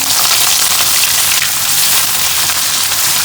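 Onions and dried red chillies frying in hot coconut oil, a loud, dense, continuous sizzle heard up close throughout with no talk.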